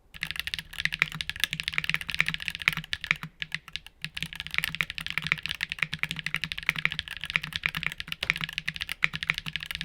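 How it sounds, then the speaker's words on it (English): Steady, rapid typing on a mechanical keyboard with Wooting switches, crisp clicky keystrokes close up with no talking, continuing throughout. "here's the sound test for these"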